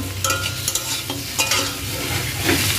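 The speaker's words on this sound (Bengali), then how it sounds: "আদা দিয়ে পটলের আলুটা কষিয়ে এখন এই কষানো হচ্ছে" Potato and pointed gourd sauté with ginger in an oiled pan for a vegetarian curry with soybean pieces. A steady sizzle runs under repeated scraping stirs of a spatula, close and moderately loud.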